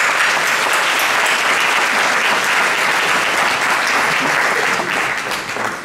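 An audience applauds the programme team on stage at a regional opening event, a dense, loud, continuous wash of clapping that holds steady and begins to fade at the end.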